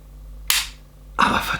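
Two sharp gas blowback shots crack from a KJW Steyr L9A2 airsoft pistol, loud and close, about three-quarters of a second apart. The second shot rings on a little longer, and quiet surrounds both.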